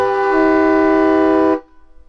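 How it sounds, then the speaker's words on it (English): A Mack truck air horn fitted to a Jeep Gladiator blasts one loud, sustained, rich tone for about a second and a half, then cuts off abruptly. "we've got that Mack truck horn in ours"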